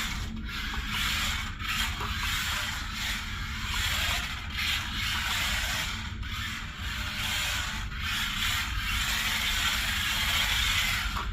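Enoze 1:43 scale RC drift car driving over carpet, a continuous buzzing motor whir with rough rubbing and small bumps throughout, steady and close, with no voices.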